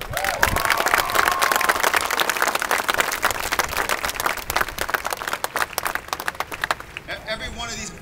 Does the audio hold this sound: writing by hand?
no